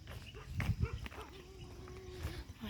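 Dogs bark and growl in short bursts nearby, with a whining, drawn-out vocalization in the middle, over outdoor background noise.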